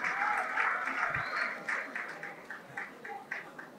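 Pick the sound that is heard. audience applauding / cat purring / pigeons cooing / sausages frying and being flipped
audience applauding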